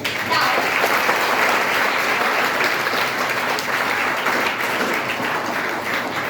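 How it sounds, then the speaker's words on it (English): Audience applause after a devotional song performance at a Shree Krishna Janmashtami celebration: a sustained, even wash of clapping from a large crowd, loud and continuous for over six seconds. "a big round of applause for their wonderful performance"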